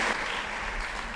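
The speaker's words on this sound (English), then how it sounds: "a big applause" Audience applause at the Tropentag 2015 conference in Berlin, a dense, steady wash of many hands clapping at even loudness throughout, with no voices over it.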